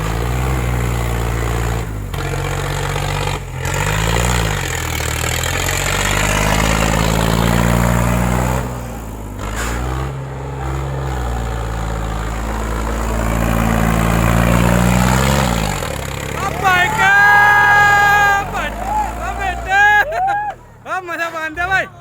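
Sonalika 50 and Eicher 551 tractors straining against each other in a tug-of-war contest, heavy engines droning loudly and steadily with rising and falling revs, a crowd and commentator talking over them.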